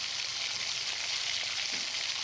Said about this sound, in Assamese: মছলাটো ধুনীয়াকৈ ভাজিব লাগিব